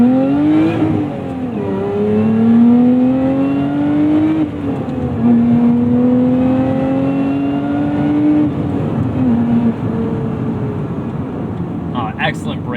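A Lotus Emira sports car, turbo four-cylinder or V6 in touring chassis, drives on a bumpy B road with steady engine drone rising in pitch through gears, loud and continuous from inside the cabin, with speech over it.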